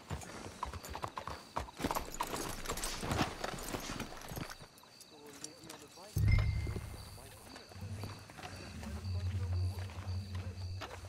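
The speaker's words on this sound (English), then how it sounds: "Let's hitch your horses up ahead." Horses clip-clopping in the Red Dead Redemption video game, hooves trotting steadily and then slowing, with a whinny and a snort partway through. Game voices talk over much of it.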